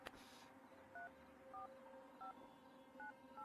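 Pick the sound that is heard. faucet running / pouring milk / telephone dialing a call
telephone dialing a call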